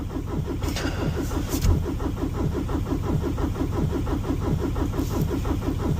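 A car engine on a cold start with a fault, cranking and catching into a rough, rhythmic idle with a steady pulsing beat, close and continuous, a couple of brief clicks or knocks over it.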